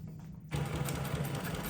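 A Jack S7 computerised post-bed roller-feed sewing machine starts up after a brief quiet moment and runs steadily, a close, continuous mechanical whir with fast rhythmic stitching.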